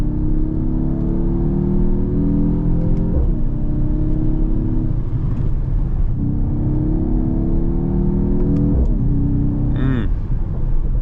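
A Mercedes-AMG GT 43's engine revs up through rising gears, roaring and pulling hard with a deep, steady rumble over about eleven seconds, close and loud.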